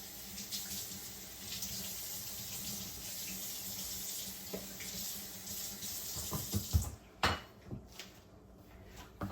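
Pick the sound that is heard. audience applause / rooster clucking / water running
water running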